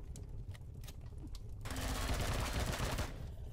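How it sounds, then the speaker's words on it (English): Pulse rifle fire in the space survival game Empyrion Galactic Survival, heard as a few sharp separate shots followed by a denser rapid burst, fairly quiet overall with no speech. "We'll stick with the pulse rifle."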